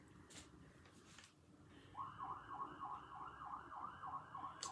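A siren wails outside, rising in at about the two-second mark and holding a steady, cycling up-and-down tone at moderate distance over low background rumble, with no one speaking.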